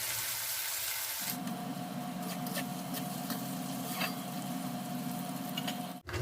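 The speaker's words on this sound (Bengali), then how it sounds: "দিয়ে তারপরে পেঁয়াজটাকে একটু ভেজে নিই" Chopped onion with salt fries in a pan, giving a steady, close sizzle with a soft hiss that runs evenly throughout, with no talking.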